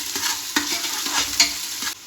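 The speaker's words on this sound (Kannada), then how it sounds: "ಇವೆರಡು ಚೆನ್ನಾಗಿ ಒಂದು ಸ್ವಲ್ಪ ಫ್ರೈ ಆಗಲಿ." Onions and kasuri methi fry in hot oil for a mushroom donne biryani, a close steady sizzle broken by a few sharp scrapes and clinks of a stirring spoon against the pan.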